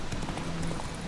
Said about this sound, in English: your horse will just follow the road that it's on, like this